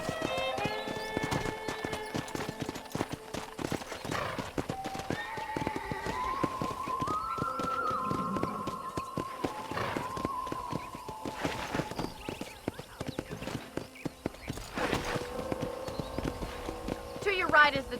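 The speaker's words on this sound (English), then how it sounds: "I picked out a fine horse for you." Horse hooves clip-clop steadily on a dirt path in the Red Dead Redemption video game, a riding gait under a continuous musical score with occasional voices talking over it.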